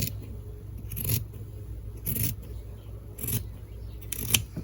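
Fabric face-mask material, purple and white, cut in half with scissors by hand: four short crisp snipping bursts, evenly spaced, close and fairly quiet over a low steady background hum.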